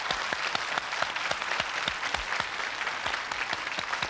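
Studio audience applause on a Russian television quiz game show, a steady dense clapping of many hands that runs loud and continuous throughout, with no talk over it.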